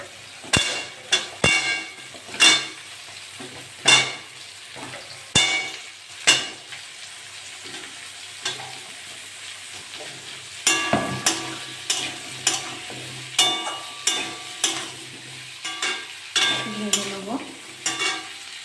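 Pumpkin pieces frying with shrimp in a pan, with a utensil stirring and scraping in repeated sharp clacks over a steady low sizzle, close and fairly loud, with no talking.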